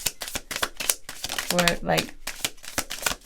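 Tarot cards being shuffled by hand, a rapid run of riffling, slapping bursts close up, with a person talking over them.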